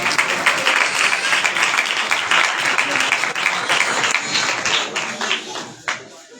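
A church congregation claps loudly for the pastor, a dense, continuous burst of applause that fades toward the end.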